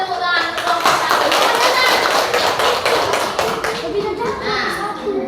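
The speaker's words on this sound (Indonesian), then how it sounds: "Kasih tepuk tangan untuk kelompok 1" A class of children in an Indonesian primary school claps for a group, a lively burst of rhythmic clapping and tapping mixed with excited children's voices, fading toward the end.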